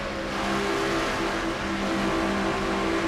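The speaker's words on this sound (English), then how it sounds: "these engines are getting quite a workout here on a track like Atlanta without question" Race car engines roaring at high revs in a NASCAR-style racing video game at Atlanta, a steady loud drone of several cars holding speed through the turns, with no talk.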